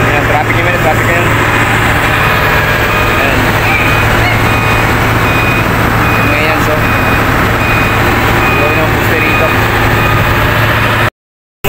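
Street traffic beside the MRT 7 construction site near a market: heavy engines idle and rumble continuously, a reversing alarm beeps steadily, and someone talks over the noise.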